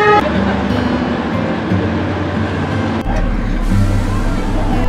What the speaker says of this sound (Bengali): আমাদের ট্রেনটা কিন্তু ঘুম স্টেশন থেকে ছেড়ে দিল।